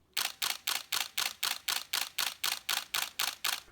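A camera shutter firing in burst mode, fourteen crisp, evenly spaced clicks in a rapid steady rhythm, close and loud with no talk.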